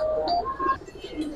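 A silver aluminium pigeon gives a short, soft coo, close up and alone, over a faint background hum.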